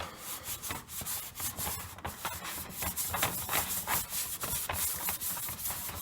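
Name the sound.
scrubbing Pampered Chef stoneware pan with sponge and baking soda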